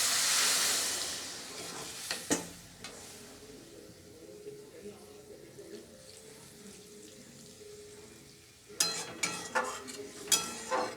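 Water poured from a tap into a pan of spiced beans that have been well fried, with a loud gush at the start, a quieter simmering stretch, and a burst of clattering and sizzling near the end; no talking.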